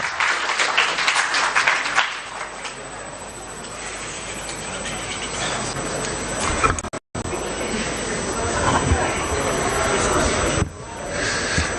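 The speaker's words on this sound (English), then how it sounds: "With a round of applause, let's welcome Comrade Ben Amona to the podium." A hall audience at a political party's public forum on the national budget breaks into sustained applause to welcome a speaker to the podium, a dense roar of clapping with a brief cut midway and murmuring voices underneath.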